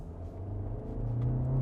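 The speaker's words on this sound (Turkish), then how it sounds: "Motor sesi de hani şurada" Steady low engine rumble from inside a moving Skoda Kodiaq with a 1.5 TSI engine, building slightly toward the end, with no talking.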